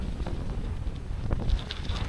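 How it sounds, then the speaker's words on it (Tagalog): Strong headwind buffets the microphone while cycling past rice paddies, a constant low rumbling roar with faint scattered rattles, no talking. "Grabe ang headwind"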